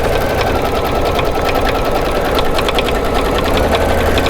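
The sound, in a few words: embroidery sewing machine stitching background fabric down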